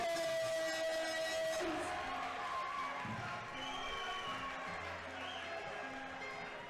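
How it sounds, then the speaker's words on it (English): A fight night arena crowd roars and cheers in the distance, a steady wash of noise with scattered whoops, fairly faint and continuous throughout. "you hear the crowd roaring"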